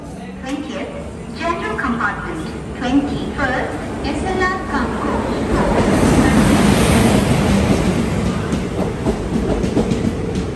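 The Poorna Express train rumbles into a railway station and grows louder, with rolling wheel noise and clatter, while a person talks over it near the start.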